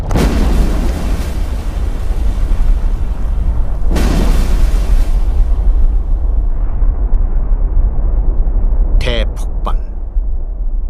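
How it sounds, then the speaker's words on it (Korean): A huge volcanic eruption blast in a prehistoric dinosaur-era scene, with fires engulfing mountains, rendered as a loud sustained roaring rumble and two heavy bursts near the start, then a few sharp crackling pops near the end. "지각을 변화시킬 대폭발의 징조가 고조되고 있었던 것이죠."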